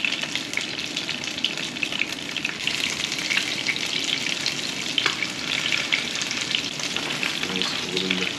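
Panko-breaded fish pieces for tacos frying in a pan, a dense, loud, continuous sizzle with crackling pops and occasional stirring, steady throughout with no one speaking.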